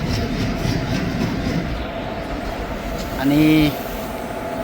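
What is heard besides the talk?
train arriving at station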